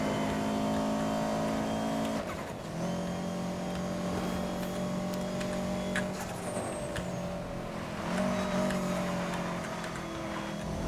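A car in Need for Speed: Most Wanted (2012) accelerates with a loud, close engine whine that climbs in pitch, drops back at two gear shifts, and then rises again with no talk over it.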